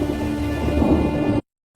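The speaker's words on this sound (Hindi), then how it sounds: "काकाडू के तूफानों की गिनती दुनिया के सबसे बड़े तूफानों में होती है।" Thunderstorm with heavy rain in Kakadu, a dense continuous roar of downpour and low thunder rumble that cuts abruptly to silence near the end.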